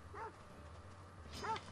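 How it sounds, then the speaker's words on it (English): A dog in Assassin's Creed Odyssey gives two short, faint barks about a second apart over a low, steady game ambience. "The dog found me!"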